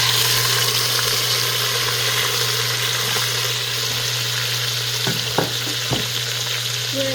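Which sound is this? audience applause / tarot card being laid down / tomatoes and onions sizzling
tomatoes and onions sizzling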